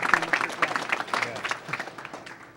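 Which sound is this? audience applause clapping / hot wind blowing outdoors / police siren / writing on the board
audience applause clapping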